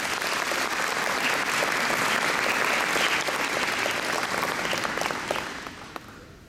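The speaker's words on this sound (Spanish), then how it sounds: "le recibimos con un aplauso" An audience at a talk on the sacrament of penance applauds steadily and loudly for several seconds, the clapping thinning and fading out near the end.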